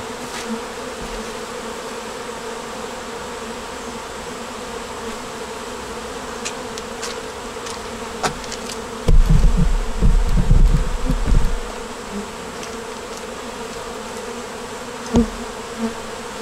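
Honey bees buzz steadily inside an open beehive, a close continuous hum with brief louder swells as individual bees pass near.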